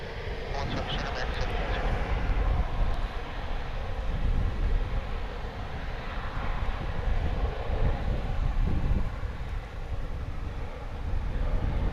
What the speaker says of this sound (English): That Frontier aircraft you are seeing there on its way to Las Vegas,